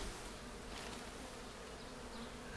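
A steady, dense buzzing of many honeybees fills the air during a hive installation, continuous and close, with no voices.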